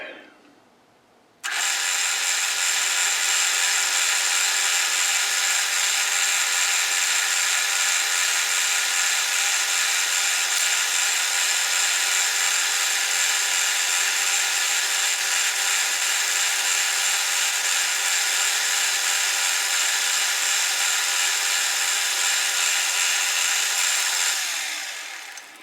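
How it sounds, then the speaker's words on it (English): A metal lathe parts off a section of a roller, giving a loud, steady high-pitched cutting whine that starts abruptly and holds for over twenty seconds before tapering off. "Right, we'll part off the second one."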